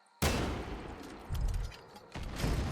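A rocket launches and detonates against an anti-aircraft gun in Far Cry 6, a sudden loud blast with a long rumbling tail, followed by further heavy bursts of gunfire or explosions, no talking.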